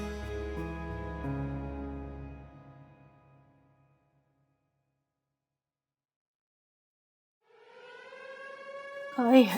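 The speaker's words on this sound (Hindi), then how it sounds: "सायरन बज गया है" A siren wails near the end to mark the close of the Ramadan fast, rising in pitch and growing louder after quiet moments that follow fading music.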